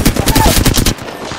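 Rapid automatic gunfire in the game Apex Legends, a loud close burst of evenly spaced shots that stops abruptly and leaves a fading tail.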